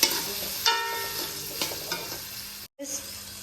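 Salt, chili, turmeric and other spices for an onion-potato curry are stirred in a frying pan, a close steady sizzle broken by scraping stirs, with a brief dropout near the end.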